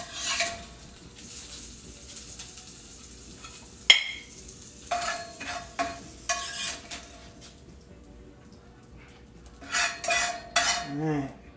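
Forks and utensils scrape and clink against plates and pans as microwaved bacon and fried rutabaga are plated, a series of close, uneven metallic taps with a faint sizzle between them.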